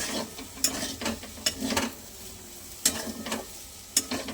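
Tomatoes fry in a pan for chowmein, a low sizzle under repeated scraping and stirring strokes that come in irregular bursts, close by.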